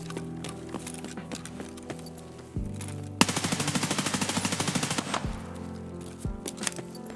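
M4 rifle on full auto in a video game, a quick rhythmic burst of about two dozen sharp shots lasting around two seconds, set among scattered single shots, footsteps and background game noise.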